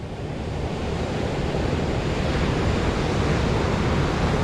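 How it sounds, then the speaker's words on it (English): Ocean surf rolling in at high tide on New Smyrna Beach, Florida, a loud, continuous roar of breaking waves mixed with wind buffeting the microphone. "Well, it's high tide right now."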